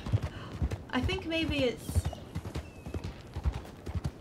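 Rhythmic hoof clip-clops from a horse being ridden along a road in a Western roleplay video game, steady and fairly close, with a person talking over the hoofbeats.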